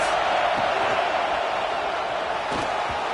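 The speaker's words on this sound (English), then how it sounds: "These fans are going absolutely nuts." A packed stadium crowd roars in a Madden football video game, a loud, steady wall of fan noise with a couple of sharper swells of yelling rising out of it.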